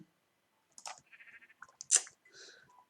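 Minecraft Tekkit game audio: a sheep falls from a tree, a few short bleats and soft clicks sounding close and fairly quiet, alone without talk.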